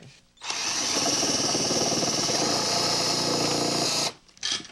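A power drill whirs loudly and continuously for about four seconds, starting and stopping abruptly, close to the listener.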